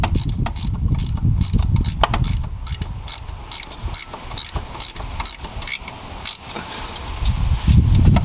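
A hand ratchet clicks rapidly and repeatedly while tightening a starter bolt on a 2014-2016 Hyundai Elantra, close and loud with steady pawl chatter throughout.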